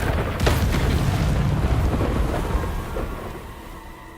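Confringo blasting spell in Hogwarts Legacy erupting in a deep rumbling boom with a crackling burst, then rolling and fading away over a few seconds.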